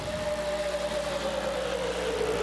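Race car engines of Outlaw Super Late Models in iRacing, a steady loud engine drone whose pitch glides slowly downward as the cars run through the tri-oval.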